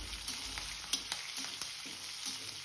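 Onion, curry leaves and green chili frying in hot oil in a pan, a steady close sizzle with a few soft stirring clicks and scrapes, no voices.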